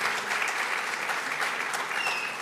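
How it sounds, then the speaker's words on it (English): Steady, dense round of audience applause at a campus reunion Q&A event, sustained and fairly loud throughout with no pauses. "And a big round of applause to him"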